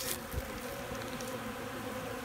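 Honeybees foraging on Ultra Bee feed in a 3-degree apiary buzz softly in a steady, faint hum, with a brief louder pass of a nearby insect.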